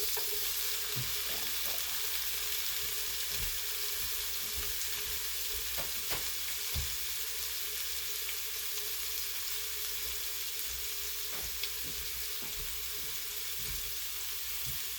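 Tomatoes frying in a small pan on a tabletop cooker give a constant hissing sizzle throughout, with scattered scraping and knocking taps from a spoon stirring them.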